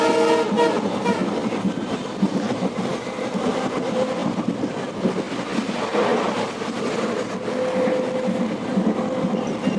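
A train runs steadily with continuous rumble and rattling from inside a carriage, opening with a loud horn blast that fades as the wheels keep clattering.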